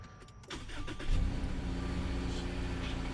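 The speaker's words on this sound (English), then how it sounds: "And now you're good to go ahead and start up the vehicle." A 2018 to 2021 Subaru Crosstrek engine cranks briefly and catches, rising into a steady idle hum after a brake job, close and fairly loud.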